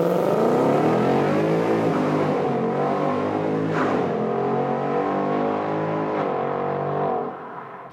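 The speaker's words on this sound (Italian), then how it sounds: "a quel regime di rotazione sembra di essere su una vettura da competizione, perché ha un sound che è una cosa epica" A 2019 Ford Mustang V8 revving at high rpm, its engine note climbing and falling in loud, close sustained sweeps for several seconds before cutting off at the end.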